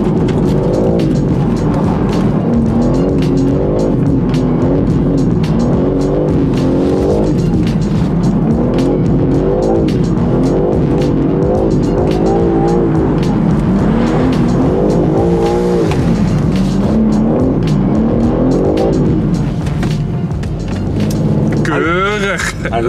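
BMW M3 CS on street tires, its engine revving hard and pulling under acceleration with tire squeal, loud and continuous from inside the car, with people talking over it.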